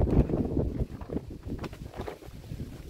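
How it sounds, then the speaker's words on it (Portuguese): Strong, gusty wind blowing outdoors among potted desert rose plants, buffeting the microphone with loud rumbling low gusts that rise and fall, with no talking. "Talvez o áudio não saia tão bom, né, porque tá uma ventania aqui"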